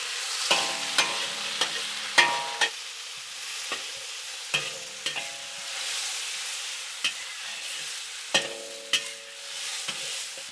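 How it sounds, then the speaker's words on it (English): Tomatoes and scallions stir-fry in a wok under a constant hissing sizzle, punctuated by sharp metallic spatula scrapes at irregular intervals, close and clear with no speech. "I'm gonna add the tomatoes and the scallions. And I'm just gonna stir fry them for about a minute"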